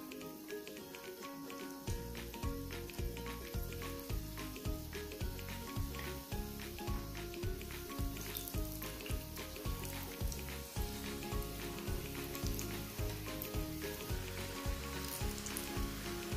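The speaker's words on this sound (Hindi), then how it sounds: "अब इसमें हम अपने मिनी भाकर बड़ी डालेंगे।" Mini bhakarwadi fry in hot oil with a steady, fairly quiet bubbling sizzle that runs throughout, beneath a regular rhythmic thumping pattern.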